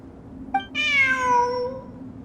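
A cat meows inside the video game Genshin Impact, one clear, drawn-out meow preceded by a short chirp, close and alone over a quiet ambient hum.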